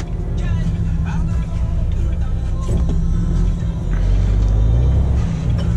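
A truck drives along a road with a steady low engine rumble and road noise, and the engine swells louder toward the end while people talk over it.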